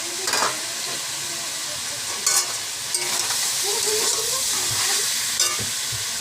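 Chopped cabbage fries in a pan with onion, giving a steady, loud sizzle and hiss, broken by a few sharper scraping stirs.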